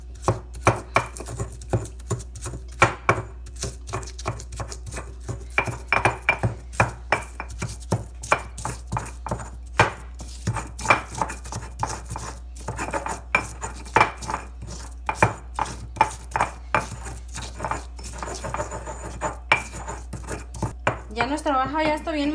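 Garlic cloves and coarse grain salt ground by hand in a stone molcajete for salsa: a steady run of sharp, gritty pounding and scraping strokes, close and fairly loud, with no talking.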